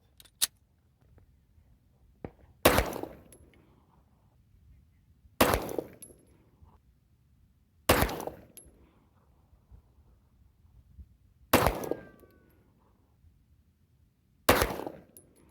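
An unsuppressed Glock 9mm pistol fires subsonic reloads loaded with 4.8 grains of Power Pistol powder. Five sharp, loud shots ring out at even intervals of a few seconds, each with a short echoing tail over quiet background.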